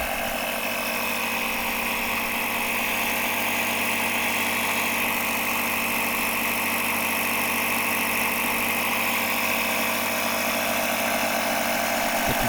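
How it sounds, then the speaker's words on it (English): A Vector 120 PSI portable air compressor built into an 800 amp jump starter hums and buzzes steadily at close range while topping up a car tire, a constant loud motor drone with no talking. "The compressor is doing its job and is supplying the air that we need to pump the tire up"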